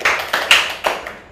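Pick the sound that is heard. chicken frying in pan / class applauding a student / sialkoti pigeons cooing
class applauding a student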